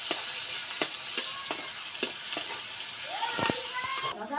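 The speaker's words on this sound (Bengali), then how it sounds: "পেঁয়াজ কুচি, দিয়ে এখন পেঁয়াজটা একটু ভাজে নেব।" Chopped onion sizzles and fries in a pan for a rui fish curry, a steady broadband hiss with a regular series of sharp scraping stirs and a few clacks of the spatula, close and fairly loud without any talk.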